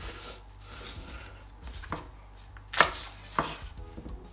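A knife chops scallion on a cutting board, with a few soft cuts followed by two sharp, distinct thuds close up; no voices.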